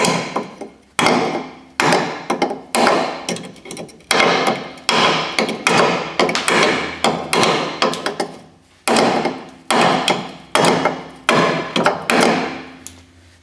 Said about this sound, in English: put my hammer under here to support this and just hit the rivets